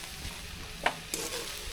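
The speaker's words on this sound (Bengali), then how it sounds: "হালকা নাড়াচাড়া দিয়ে এখন নামিয়ে ফেলবো।" Fried fish being stirred with spices, fried onion and coriander in a pan, a faint sizzle beneath one or two brief utensil scrapes, no talk.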